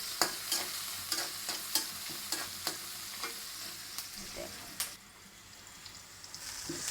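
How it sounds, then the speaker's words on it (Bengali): Leafy greens hit hot oil with fried dried red chillies, onion, garlic and green chillies, sizzling loudly while a utensil clacks against the pan in a quick, regular rhythm that fades toward the end. "এখন আমি শাক ভাজিটা একবারে তেলে দিয়ে দেবো"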